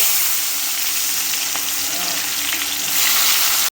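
Onions with bay leaf, cloves and cardamom fry in hot oil in a pan, giving a loud, continuous sizzle with faint stirring scrapes and no talking.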